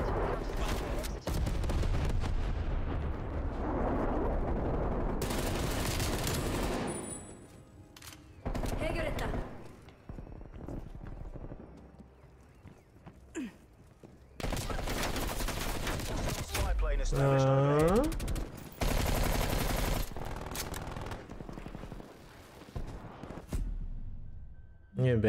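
MP5 submachine gun fire in a roleplay shooter game, rapid bursts of automatic gunshots alternating with quieter gaps, loud and close, with a voice talking over parts of it.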